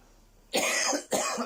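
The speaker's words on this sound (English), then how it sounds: "Sorry, I'm coughing because I've just woken up." Two harsh, close coughs in quick succession after a brief quiet moment.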